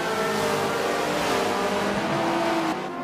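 A race car engine drones at high revs around the Monza circuit in the Forza 7 racing game, a loud, continuous whine that holds steady before easing off slightly near the end.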